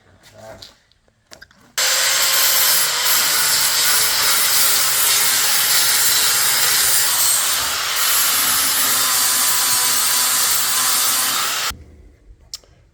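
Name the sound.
grinding off spot welds on a car body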